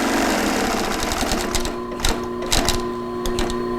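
A clutch-type leather sewing machine stitching through leather, its motor whining steadily under a rapid mechanical clatter of the needle, with brief louder bursts as the stitching surges; close and loud, no speech.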